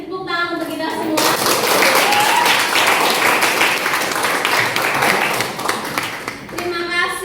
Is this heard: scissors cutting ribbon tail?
no